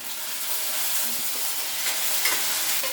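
Sautéed onions fry in a kadai as tomato goes in for sambar, giving a steady, close, dense sizzle and hiss with faint stirring throughout and no talk.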